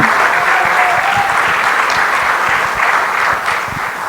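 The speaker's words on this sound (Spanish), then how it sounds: "Un fuerte aplauso también" Loud, sustained audience applause at an education conference session in Mexico, dense clapping close by and even throughout, easing slightly toward the end.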